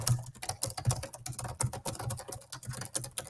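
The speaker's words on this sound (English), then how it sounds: "yes, this is actually how fast I type" Rapid typing on a computer keyboard, close and moderately quiet, with a dense, uneven stream of key clicks and no talking.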